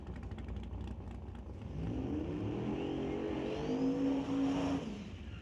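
Drag racing cars at a turbo-versus-nitrous drag event firing up and revving, a loud engine roar swelling and rising in pitch over a busy outdoor track background.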